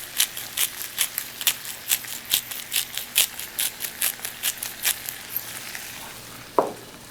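Cajun stir fry sizzling in a pan while being stirred in a steady rhythm of about twenty scraping strokes, loud and close, with no talk.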